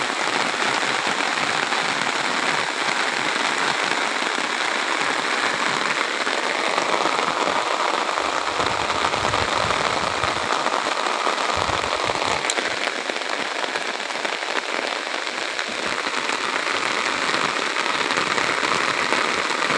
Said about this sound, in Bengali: দেখেন মুষলধারে বৃষ্টি হচ্ছে, এই নদীর পার, এই নদী বহমান